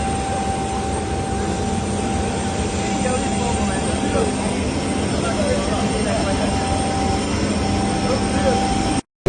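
Steady broadband roar of a private jet's engines, heard from inside or close by, continuous and loud for the whole stretch with a faint whine, while a voice talks over it.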